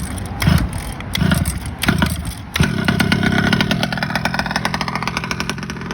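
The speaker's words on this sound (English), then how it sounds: "I'm just gonna give it a little more fuel in the high end and start it up and see how she likes that." Small engine on a Vesla with 71 Supreme power, pulled a few times and then catching, settling into a loud, rapid, buzzing run with steady firing pulses.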